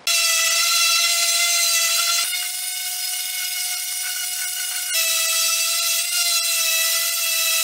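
Steady high-pitched whine of a power sander sanding wooden pieces for a rustic beer caddy, continuous and loud with a couple of brief dips in pitch.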